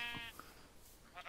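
A Minecraft sheep gives a couple of short, faint bleats during a forest stretch of gameplay, soft and brief with no talking over them.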